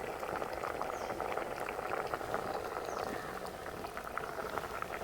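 Sweet pumpkin curry simmering on a medium flame: a steady, soft bubbling and popping that runs continuously at low level throughout, with no talking.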